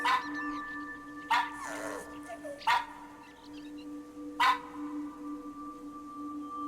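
A cartoonish dog barks in the video game That Dragon, Cancer, three short separate yips spaced a second or two apart over soft sustained background music.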